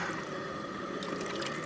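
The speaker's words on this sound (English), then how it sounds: "I'm gonna pour a little water in here to help get some of this extra tomato sauce." Water poured into a pan of tomato sauce, heard as a soft, steady trickle that grows a little busier toward the end. The pour is quiet and close, with no talking.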